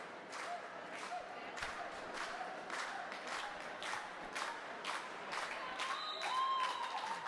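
Crowd clapping at a roller derby bout, a steady patter of applause with scattered thuds and cheers, moderately distant and fairly quiet throughout.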